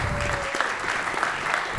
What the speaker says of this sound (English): let's give a round of applause for all of our panelists here today